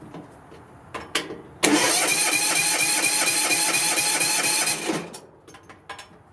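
Small Tecumseh engine fitted with a swapped carburettor, a few faint pull-start clicks followed by a loud buzzing whir of cranking for about three seconds that stops abruptly, heard up close.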